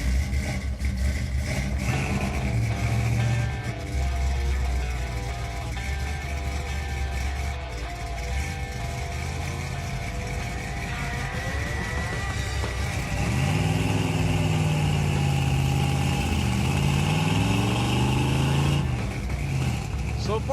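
A car with new rear suspension drives off on a test run, its engine rumbling and revving loudly and rising in pitch as it pulls away, with speech mixed in.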